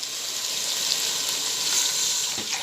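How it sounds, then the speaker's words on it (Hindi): Water poured into hot masala oil in a pan for matar pulao gives a steady, loud sizzle and hiss, close and continuous for the whole moment with no talk over it. "अब मैं इसमें पानी डालूँगी"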